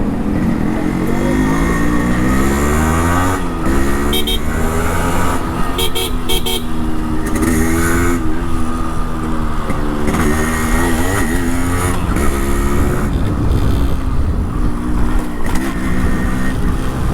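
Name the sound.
Yamaha RX100 motorcycle revving with cut exhaust muffler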